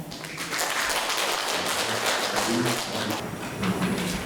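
A conference audience applauds to welcome a professor to the front at an academic symposium, a steady mid-level clapping throughout with no talk.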